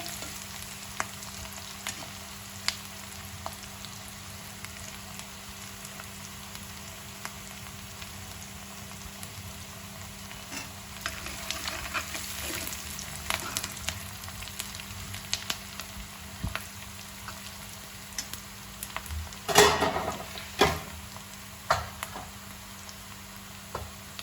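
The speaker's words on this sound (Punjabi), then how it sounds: "ਸਾਰੇ ਮਸਾਲੇ ਨੂੰ ਅਸੀਂ ਹੁਣ ਮੱਠੇ ਮੱਠੇ ਸੇਕ ਦੇ ਉੱਤੇ ਭੁੰਨ ਲਵਾਂਗੇ" Spices roast slowly in a pan over low heat while green beans are being cooked, giving a quiet continuous crackling sizzle that grows busier midway, with a few clinks and scrapes near the end and no voices.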